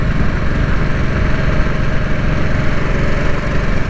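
A 2022 Harley-Davidson Nightster's engine drones loud and close while riding, a steady, dense throb with no break and no voices.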